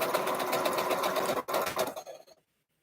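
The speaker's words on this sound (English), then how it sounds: "my new sewing machine finally came" A new sewing machine stitches a quilt block, a loud, fast rhythmic whirring that runs for about two seconds and then stops abruptly.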